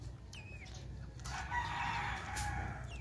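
Backyard chickens kept with ducks cluck softly and close by, a few short calls over a low steady background hum, with no talking.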